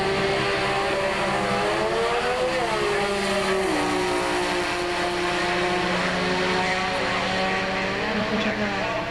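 Early model Chevrolet Corvette on a drag racing qualifying run at the Spring Nationals, a loud, steady engine roar throughout, with its pitch rising and shifting through gear changes.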